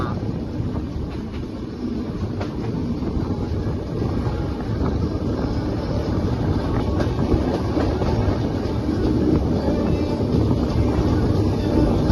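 Steady low rumble of the Konkan Kanya Express on the Konkan Railway rolling along, continuous and fairly loud, with wind buffeting the microphone throughout.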